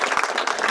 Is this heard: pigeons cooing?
no